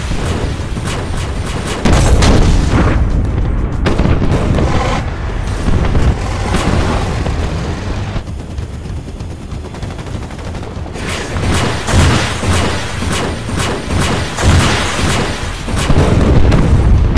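Heavy gunfire and booming explosions from a film battle scene, with dense volleys of shots and blasts continuing loud and close throughout, easing briefly in the middle before intensifying again.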